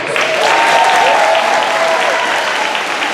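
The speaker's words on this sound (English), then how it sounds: "give yourself a big round of applause" Loud, dense clapping from a crowd of students at a school assembly with the St. Louis Cardinals mascot, steady throughout with faint cheering mixed in.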